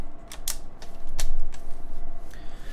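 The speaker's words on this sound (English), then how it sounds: "the first thing that I'm gonna do is take out all the keycaps" Keycaps being pried off a Norbauer Heavy Grail keyboard, giving a run of sharp plastic clicks and snaps at irregular intervals, close and fairly loud over a faint steady hum.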